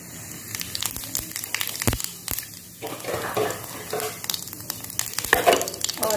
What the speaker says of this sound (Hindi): मैंने यहाँ पर कढ़ाई में एक बड़े चम्मच तेल लिया है और इसमें मैं थोड़ा सा जीरा डाल दूंगी।